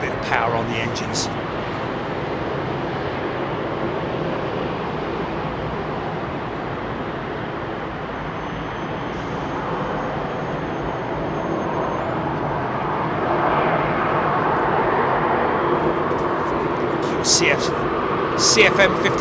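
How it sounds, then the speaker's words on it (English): An Airbus A320 with CFM56 engines powering up at London Heathrow: a steady broad engine rumble with surrounding airport and road noise builds a little partway through, while voices can be heard talking over it. "A little bit of power on the engines."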